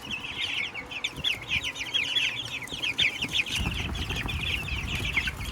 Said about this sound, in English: Look at the size of those meat birds.